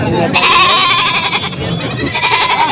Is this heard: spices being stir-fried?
no